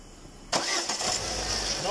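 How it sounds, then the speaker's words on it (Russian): A car engine cranks and catches at about the half-second mark, then settles into a steady, loud running idle close by, with no talk over it. "Yurgizamiz mashinani."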